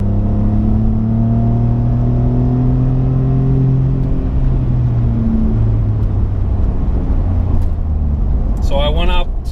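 Ford F150 with a 3.5 EcoBoost and MBRP 4-inch cat-back exhaust at wide open throttle, a loud, deep droning exhaust note that climbs steadily in pitch as it accelerates, then drops back, with a voice at the end.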